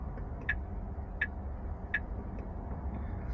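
A Tesla Model 3 Highland RWD turn signal ticks steadily, three sharp clicks roughly 0.7 seconds apart over a low rumbling cabin hum.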